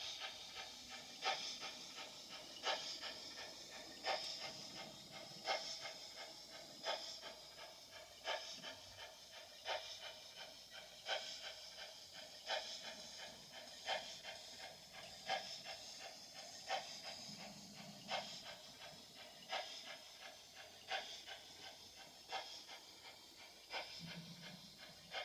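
A small wind-up model steam locomotive named Olive runs in a Gn15 scale model railway, with soft, evenly spaced steam chuffs from a small sound cube repeating steadily and faintly throughout.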